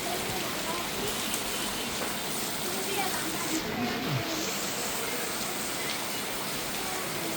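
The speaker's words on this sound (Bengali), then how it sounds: "আকাশের অবস্থা হচ্ছে এই বিজলি চমকাচ্ছে, খুব জোরে জোরে বৃষ্টি, খুব জোরে জোরে।" Heavy rain falls at night in a steady, dense hiss that continues without letup, even and moderately loud with no distinct thunderclaps.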